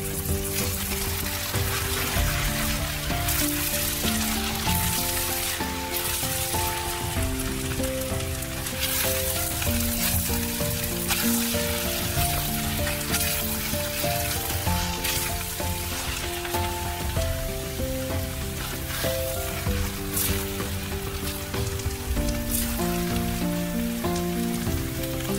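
Pad see ew noodles cooking in a hot pan, a dense continuous sizzle under steady tonal background music, constant and fairly loud throughout.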